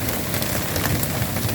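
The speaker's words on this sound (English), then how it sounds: "And a lot of rain suddenly with some hail." Heavy rain mixed with small pea-sized white pellet hail pours down in a dense, continuous patter and hiss during a March afternoon storm, loud and steady with no voices.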